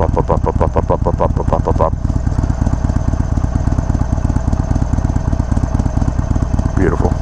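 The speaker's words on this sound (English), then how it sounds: "This bike is gonna have that nice little classic Harley Davidson potato, that type of sound." A 2021 Harley-Davidson Iron 883 motorcycle idles close by with its loud, lumpy, uneven potato-potato engine beat, steady and continuous throughout.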